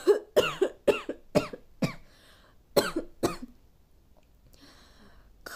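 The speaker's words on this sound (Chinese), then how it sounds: "咳嗽" A series of about seven sharp coughs, close and loud, with a few short gaps and faint breaths between them.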